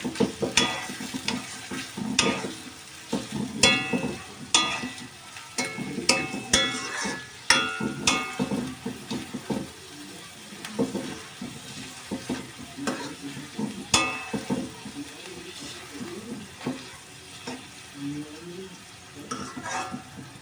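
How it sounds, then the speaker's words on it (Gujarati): Onions fry in a pan for chicken bhuna masala while being stirred, with a continuous sizzle under frequent scraping and clinking of a spoon against the pan, the stirring busier early and easing off later. "હવે ઘડીક આપણે એને હલાવીશું"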